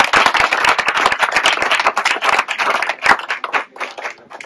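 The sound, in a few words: audience applauding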